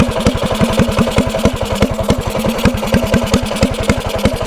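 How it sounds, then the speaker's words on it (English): Small mini bike engine fitted with a flathead motor and a bypassed governor, idling after the idle was raised: a steady, fast, even putter of firing pulses running alone at close range. "I got to turn the idle up"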